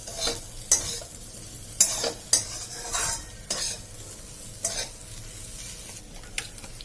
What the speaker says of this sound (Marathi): आपली डाळ किती छान आता मोकळे मोकळे व्हायला सुरुवात झालेली आहे